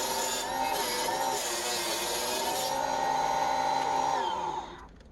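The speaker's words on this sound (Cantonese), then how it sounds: "鋸出嚟2片三角片" Power saw cutting a 2 mm acrylic sheet for a printer shelf, a steady loud whining cut lasting several seconds before the blade winds down and stops.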